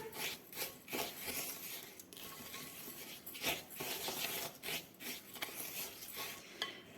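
Crushed and pounded pink peppercorns being mixed by hand into filet mignon, soft rubbing and scraping strokes in an irregular rhythm, close and fairly quiet, with no talking.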